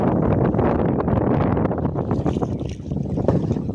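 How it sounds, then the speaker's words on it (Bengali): Strong wind buffets the microphone in loud, rough gusts on a river where big waves rock a rowed fishing boat, the roar surging and dipping unevenly with no clear speech. "প্রচন্ড হাওয়া বন্ধুরা"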